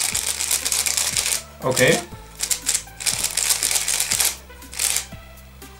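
Newisland Lightning puzzle cube turned by hand out of the box, giving clusters of light, slightly clicky rattling turns in short bursts, with brief talking from a nearby voice.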